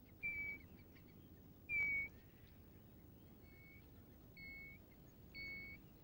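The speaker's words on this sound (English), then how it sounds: "Their usual call is a simple, melancholy piping whistle." A small brown bird gives a simple, melancholy piping whistle, several short separate notes with pauses between them, faint against quiet outdoor background hiss.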